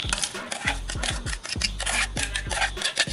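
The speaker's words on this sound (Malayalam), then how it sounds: "നെയ്യിലൊന്ന് ജസ്റ്റ് ഒന്ന് ഇളക്കി ഒന്ന് ഇതാക്കി കൊടുക്കും, ഒന്ന് ചൂടാവാനായിട്ട്" Jackfruit seed paste stirred in ghee inside a steel pot, with a ladle scraping and rubbing against the metal in repeated close strokes, some sharper clanks between them, and no voices.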